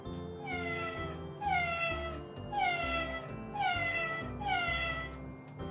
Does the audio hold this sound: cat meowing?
yes